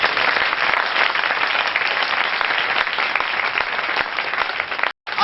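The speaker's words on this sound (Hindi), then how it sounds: "एक बार तालियां बजाओ जोरदार।" Loud, steady applause from the audience at a religious poetry gathering (kavi sammelan), a dense wash of many hands clapping that holds throughout with a brief dropout near the end.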